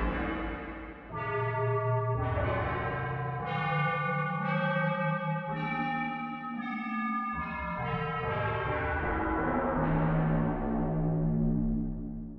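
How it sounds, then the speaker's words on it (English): Ring-modulated synth tones from a SynthieCat recreation of the EMS Synthi A, routed into reverb: clangorous, bell-like metallic chords that shift every second or so and ring out with a lingering wash. "Just for fun, let's route the ring mod into the reverb."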